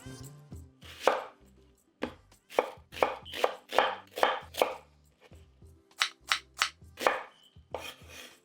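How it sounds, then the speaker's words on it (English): A knife dices a yellow onion on a cutting board in bursts of sharp, close chops, quick runs of strikes separated by short pauses, with no talking. "Peel and dice 1 yellow onion."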